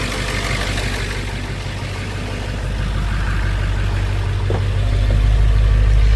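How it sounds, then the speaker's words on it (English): A van engine runs at high idle as a steady, deep rumble that holds close and even, swelling slightly louder toward the end, with no voices over it. "Put her on the high idle."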